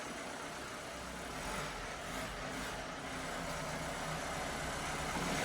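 A wrecked Mercedes van engine idles steadily and evenly, a faint continuous running hum with no talk.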